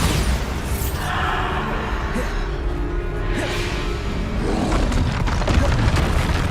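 Bombarda explosion spells cast in Hogwarts Legacy, a dense, loud and continuous rumble of booming blasts and whooshes with no clear gaps, sounding close and heavy throughout.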